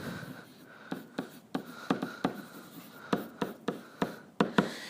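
Colored pens write math notes on paper, a quiet close scratching of short strokes and taps in an uneven rhythm with no talking.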